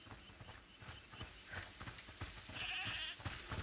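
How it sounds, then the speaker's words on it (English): Goat bleating inside a house in the game A Plague Tale: Requiem, a faint quavering bleat heard over a low, busy ambient bed with soft thuds. "Is that the goat he talked about?"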